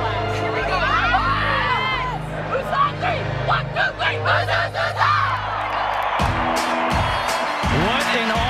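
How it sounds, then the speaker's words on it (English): Large crowd at Busch Stadium in St. Louis for a US women's national team soccer match against New Zealand, loud roaring and whooping cheers with a commentator speaking over them. "This place, a phenomenal crowd on hand."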